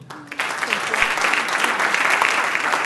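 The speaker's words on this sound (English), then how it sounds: "a big round of applause" A crowd at a startup founder's pitch session breaks into a big round of applause, the clapping swelling after a brief quiet start and holding loud and full to the end, with faint voices underneath.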